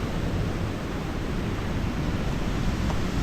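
Ocean water surging beneath cracks in smooth pahoehoe lava on a big-surf day, a continuous broad rushing wash with low rumble, steady and unbroken, no voices.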